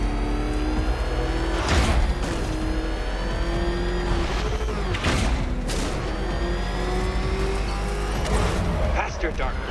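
The Batmobile racing at speed in Batman: Arkham Knight, its engine whining and revving with sharp bursts of acceleration and impacts, under a talking voice.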